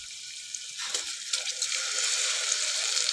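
Soaked rice and dal go with their soaking water into a pressure cooker for masala khichdi, giving a close splashing pour that builds from about a second in and keeps running steadily to the end.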